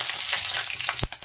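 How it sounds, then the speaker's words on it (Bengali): Black cumin seeds and two green chillies frying in hot mustard oil, a steady close sizzle with a sharp burst of spitting near the end, no voices. "তেলের মধ্যে দিয়ে দিচ্ছি কালো জিরে, দিয়ে দিচ্ছি দুটো কাঁচা লঙ্কা"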